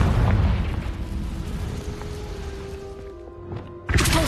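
A Confringo spell blast in the Hogwarts Legacy video game, a loud booming burst at the start that rumbles and decays over several seconds, with a second sharp impact near the end.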